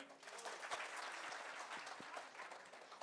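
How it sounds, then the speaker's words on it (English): Light applause from a small audience at a corporate client event, a steady patter of many hands clapping at moderate volume with a faint hum of the room beneath. "Little clapping."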